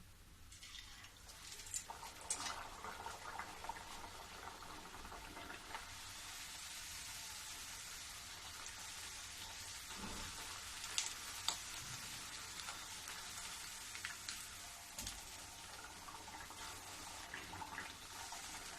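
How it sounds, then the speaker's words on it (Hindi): Beetroot puris deep-fry in hot oil, a continuous close sizzle and crackle that holds steady throughout with occasional louder pops. "अब मैं पूरी छान लेती हूँ"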